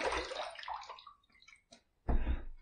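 A razor is rinsed under running water mid-shave, a gushing splash of water that trails off, then a brief drip before a second burst of water, close and fairly loud with no talking.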